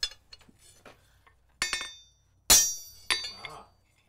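Blacksmith's steel tool strikes and scrapes metal while countersinking a punched hole in a forged strap hinge, bright ringing clinks and a few harder hits, close and fairly loud in a quiet workshop.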